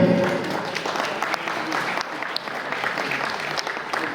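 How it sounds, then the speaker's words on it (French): Loud, sustained applause from a crowd at a fire station open day in Belgium, cheering on firefighter trainees after a demonstration maneuver; clapping is dense and continuous throughout. "on peut encore les applaudir"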